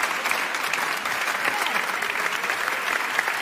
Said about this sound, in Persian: به به تشویق بکنید